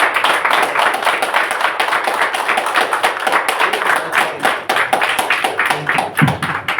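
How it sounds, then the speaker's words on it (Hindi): A crowd claps at a Dussehra event held by a de-addiction centre, giving loud, dense and sustained applause with sharp individual hand claps standing out close by. "एक बार जोरदार तालियां हो जाए हमारे सभी उन मेंबरों के लिए"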